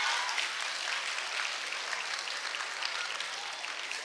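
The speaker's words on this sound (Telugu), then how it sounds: "మాధవీలత గారు కూడా క్లాప్స్ కొడుతున్నారు ఇప్పుడు" Audience of college girls clapping at a song launch event, dense continuous applause that holds steady throughout, fairly distant and without voices on top.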